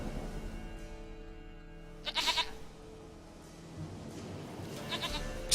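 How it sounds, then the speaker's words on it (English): A goat bleats in The Witcher 3, two short bleats over steady game ambience and music, a clearer cry near the middle and a fainter one toward the end. "Goat of mine, dearest, sweetest goat."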